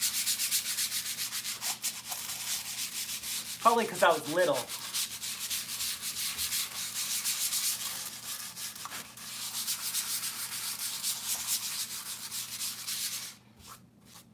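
Steady abrasive rubbing of sandpaper over a wooden guitar body, continuous and close, with a brief spoken remark partway through.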